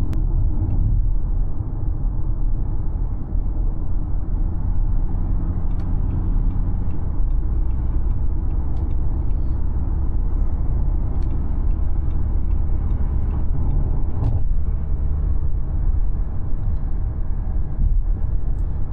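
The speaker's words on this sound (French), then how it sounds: "le moteur électrique et le moteur diesel, ils fonctionnent à merveille ensemble" A 2025 Audi Q5 diesel-electric hybrid SUV is driving, giving a steady, loud low engine and road rumble that continues unbroken, with a few faint ticks and no talking.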